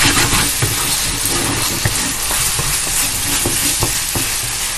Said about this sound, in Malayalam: ജസ്റ്റ് ഒന്ന് മിക്സ് ചെയ്ത് കൊടുക്കാം.